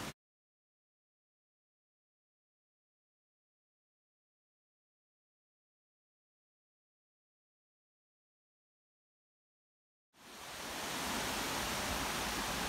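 Creek water flowing in Lamington National Park on the Coomera Circuit: after long silence, a steady, dense rushing hiss swells in near the end and holds at moderate loudness.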